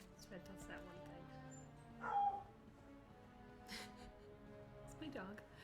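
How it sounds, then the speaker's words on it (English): A part-husky dog vocalises indoors, whining and yipping in short bursts, one louder yelp standing out midway, fairly faint behind other room sound. "It's my dog. I don't know if you heard her. She's part husky, so she's very vocal."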